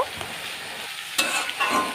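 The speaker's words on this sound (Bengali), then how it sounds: "আমি লাল শাকটা এর মধ্যে দিয়ে দিলাম নেড়েচেড়ে একটু নেব" Red amaranth greens stir-fried in a hot tempering, with a soft steady sizzle and a brighter burst of scraping and crackle midway as the leaves are turned.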